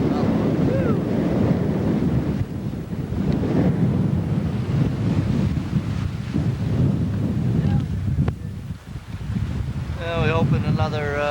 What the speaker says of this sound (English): got some real hefty waves off the quarter